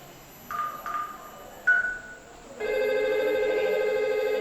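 Telephone ringing during a test call to an office extension, with two short electronic chirps followed by a sustained multi-tone ring, clear and close with no talk.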